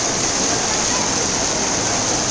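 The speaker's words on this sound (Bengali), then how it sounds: "জোরে জোরে বৃষ্টি হচ্ছে, সব ভিজে যাচ্ছে।" Heavy storm rain pours down in a dense, continuous roaring hiss, loud and steady from start to end with no break.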